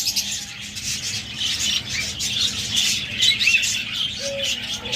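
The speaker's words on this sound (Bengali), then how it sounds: "এই রেড রেড আই পাখিগুলো প্রত্যেকটা লাল চোখের পাখি" Red-eyed pet birds, such as budgerigars or lovebirds, chirp continuously in a dense, busy chorus, loud and close, with no voices.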